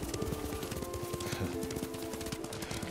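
Horse hooves clip-clopping at a steady riding pace in Ghost of Tsushima, a rhythmic patter running through all three seconds beneath a game music bed.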